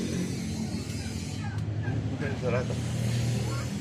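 Turkeys gobble in rapid warbling bursts amid a noisy farmyard, with a low rumble and other birds underneath.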